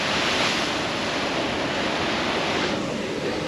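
Ocean surf pounds the shore at Nusa Penida, Bali, a loud, continuous roar of breaking waves with wind buffeting the microphone throughout, no voices.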